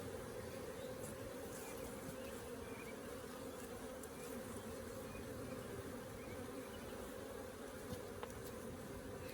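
Honey bees hum in an opened Flow Hive, a steady, even drone of many insects close by with no pauses.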